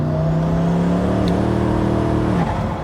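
A 1500 bhp Koenigsegg Regera with Ghost Pack upgrades under heavy acceleration, a loud, smooth rising engine whir heard from inside the car, climbing steadily before a brief dip near the end.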